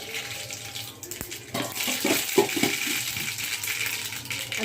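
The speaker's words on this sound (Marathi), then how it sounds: "आपलं तेल जो आहे तो चांगला गरम झालेला आहे तर आपल्याला त्यामध्ये घालायचं आहे थोडीशी मोरी" Mustard seeds hit well-heated oil in a pan for a carrot-based vegetable curry, setting off a steady, fairly loud sizzle and crackle that swells after a quieter start and keeps going with no talking.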